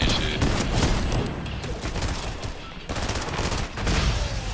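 Rapid gunfire from the video game Fortnite, sustained bursts of automatic shots that run continuously and loudly through the whole stretch with no pauses, with a brief dip partway through.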